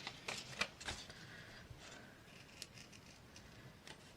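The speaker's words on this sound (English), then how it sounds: "Got a pair of scissors." A pair of scissors cutting paper scraps for a handmade mini journal, with a few crisp, quick snips near the start and then fainter, intermittent snipping and rustling in a quiet room.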